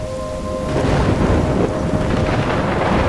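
A thunderstorm rages in the video game Life is Strange: a deep rolling thunder swell builds after the first second and stays loud over constant heavy rain and gusting wind, with no voices.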